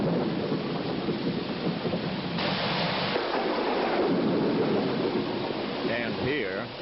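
Rain pours steadily at night in Malaysia, a constant wash with low thunder rumbling beneath, and a brief wavering tone near the end.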